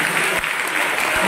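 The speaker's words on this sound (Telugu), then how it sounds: "అందరు గట్టిగా చప్పట్లతో" A church congregation claps loudly and continuously in a burst of applause at a New Year homily at St. Antony's shrine.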